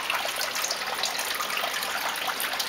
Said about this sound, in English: You can see there's still water coming in from that pipe and from this.